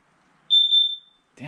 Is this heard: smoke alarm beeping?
yes